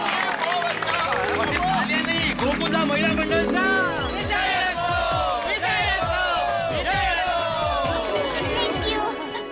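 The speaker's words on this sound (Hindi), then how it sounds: "इसलिए एक बार गोकुलधाम की महिला मंडल के लिए जोरदार तालियां भैया।" A large crowd at a Ganesh Chaturthi celebration of the Gokuldham women's group claps and cheers loudly and steadily, with a voice speaking over the dense, sustained applause.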